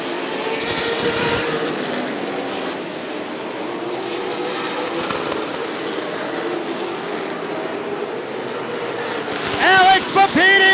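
Big 8 late model race cars roar around Rockford Speedway as a dense, continuous pack of engine noise, with a louder car passing close near the end.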